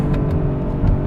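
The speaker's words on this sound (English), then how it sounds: "And the exhaust sounds freaking amazing." A 2021 Mercedes-AMG GLS 63 SUV with a nine-speed automatic accelerates, its engine and exhaust producing a loud, steady low rumble heard briefly without speech.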